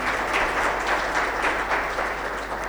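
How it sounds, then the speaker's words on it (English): Audience applause at a summit closing session, a steady wash of clapping from a crowd honoring the event's sponsors, moderately loud and continuous without breaks. "please do give a round of applause for them"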